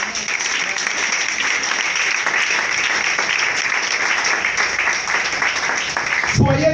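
A church congregation bursting into sustained loud applause, dense and continuous clapping from many hands that carries through the whole stretch and cuts off abruptly near the end.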